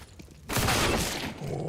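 Dense burst of gunfire erupts midway through a Counter-Strike match during a BLAST.tv Major Europe RMR play-off, a loud sustained volley that keeps going to the end over a faint low game background.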